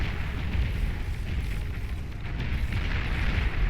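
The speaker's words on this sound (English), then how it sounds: "We see Ubivator actually going to attempt a bombing run" Bombers make a bombing run in the strategy game Beyond All Reason, heard as a continuous rumbling roar of overlapping explosions, deep and dense with no clear gaps.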